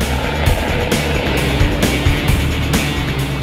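Suzuki DF300AP 300 hp outboard motor, a 2020 model, driving a boat at speed on open water, a loud steady engine roar with rhythmic thumps from the hull slapping waves, close and continuous.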